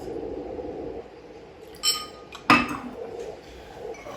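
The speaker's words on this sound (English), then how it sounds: "you'll want to fill your cocktail glass with ice" Ice clinking into a cocktail glass, two short bright clinks close by, the second louder, after a quiet stretch of low background hum.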